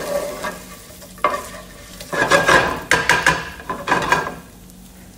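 Crispy beef fries in a pan with garlic and chilli, crackling loudly as a utensil stirs and scrapes it in several bursts, close and without talk.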